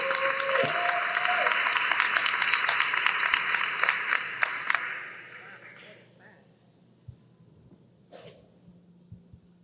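An audience at a school board meeting applauds its honorees, with steady clapping that fills the room for about five seconds before fading into quiet with a few scattered claps.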